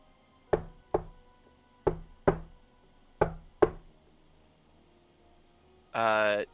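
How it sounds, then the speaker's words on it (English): Knocking on a door sounds in three pairs of sharp, evenly spaced raps, close and clear over a quiet background, followed by a short burst of another sound at the end. "You hear knocking."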